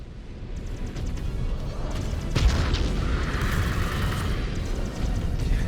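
Missiles fire in the MechWarrior 5: Clans video game as a rapid barrage of booming launches and impacts, one heavier blast standing out among continuous rumbling explosions.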